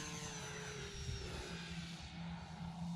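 A 4S P&P Air Tractor RC model airplane flying, its electric motor and propeller giving a steady, faint, distant drone with slight pitch shifts throughout.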